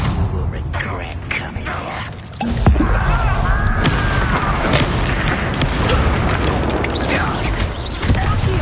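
A Confringo spell blast in Hogwarts Legacy goes off with a loud, sustained booming rumble and crackling debris during combat, with a voice speaking over the noise.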